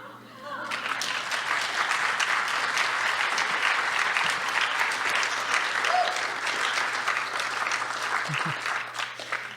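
An audience at a state poetry recitation final breaks into sustained, even applause right after a recited poem, the clapping steady and full for several seconds before thinning out.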